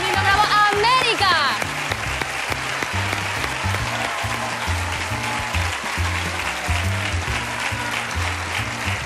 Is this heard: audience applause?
yes